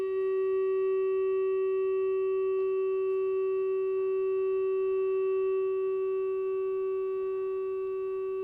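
An ondes Martenot holding a single steady, pure tone through its very subtle filter, with faint overtones above it. The note sounds constant and close with a low background hiss, and no voices.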